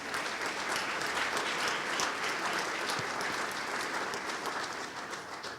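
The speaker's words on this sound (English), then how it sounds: "Could I get a round of applause for all of them, please?" A panel audience at a business school event on sport and race applauds in a continuous, fairly distant roar of clapping that holds evenly for several seconds with no voices on top.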